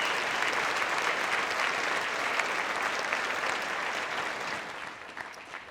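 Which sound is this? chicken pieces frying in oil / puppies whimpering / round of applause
round of applause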